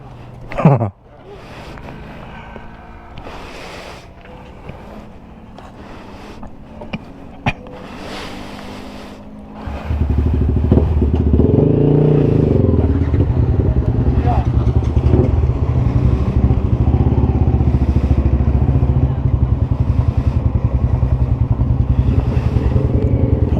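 A motorcycle engine starts up and settles into a steady, loud drone that continues, with brief voices and some wind noise before it kicks in.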